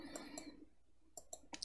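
Several crisp computer mouse clicks, a pair early on and a quick cluster near the end, faint and close.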